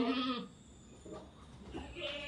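A Boer goat doe in heat bleats twice, close and clear, a wavering nasal cry at the start and another near the end, with quiet farmyard ambience between.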